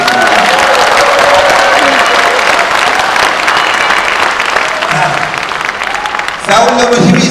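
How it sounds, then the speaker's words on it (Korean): Loud applause from a crowd of party members at a Liberty Korea Party rally, sustained clapping with some cheering and a voice speaking over it near the end. "여러분들 박수 한번 다시 부탁드립니다"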